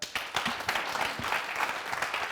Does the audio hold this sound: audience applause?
yes